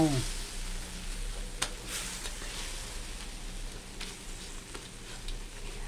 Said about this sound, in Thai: ยายก็จะเคี่ยว เคี่ยวกะทิ ให้ขึ้นเงา